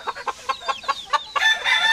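A pair of chickens, hen and rooster, give a string of short, evenly spaced clucks, then break into a longer crow, loud and close.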